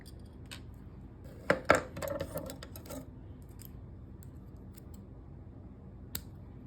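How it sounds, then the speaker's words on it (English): Wire cutters snip through bracelet wire, giving a few sharp metallic clicks and snaps clustered in the middle, with faint handling rustle before and a lone click near the end, all close and fairly quiet. "We're going to take the wire like so, and we're going to cut it"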